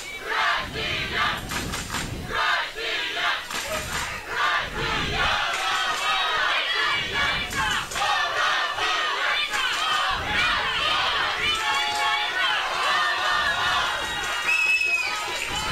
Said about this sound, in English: Crowd firing up.